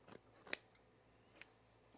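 Sharp scissor snips cutting through the fabric facing of a sewn Sylvan jacket, three or four quick separate cuts spaced apart, close and fairly quiet, with no talking.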